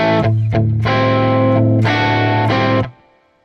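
Distorted electric guitar plays an intro riff, a few chunky chord stabs separated by brief mutes, then the last chord rings and fades; loud and close, with no voices.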